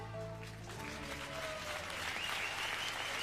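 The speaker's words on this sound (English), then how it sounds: "So there we are, a good round of applause for that, the tango," An audience applauds steadily after a tango at the 2006 European Standard dance championship in Spain, a dense wash of clapping heard from a moderate distance.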